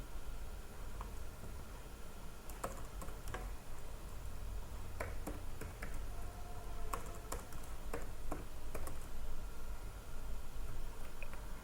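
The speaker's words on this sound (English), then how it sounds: "so now after typing these 4 queries I need to only execute it." Typing SQL queries on a computer keyboard: scattered, irregular key clicks over a steady background hiss, fairly faint and close, with no talking.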